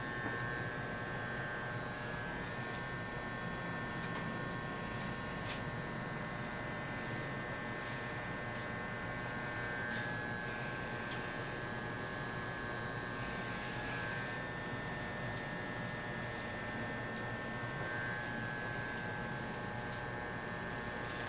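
Electric clippers buzz steadily while trimming a beard at a barbershop, a continuous close-up mechanical hum with a high whine that stays even throughout, with no talk.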